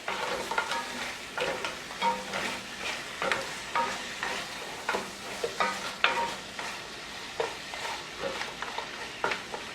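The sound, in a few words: stirring curry with diced tomato in pot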